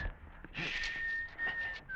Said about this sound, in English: the whistling of the gunner was a guide